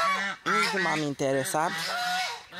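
Muscovy ducks honk and call loudly in a rapid run of hoarse, harmonic cries close by, with a voice speaking briefly among them.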